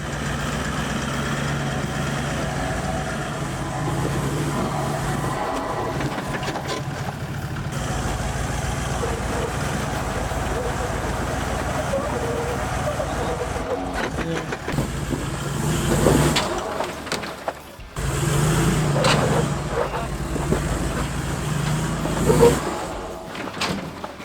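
A large 76 series Toyota Land Cruiser, loaded with a rooftop tent on a long touring trip, works along a rough off-road track in South Africa, its engine rumbling steadily close by and revving harder in bursts toward the end.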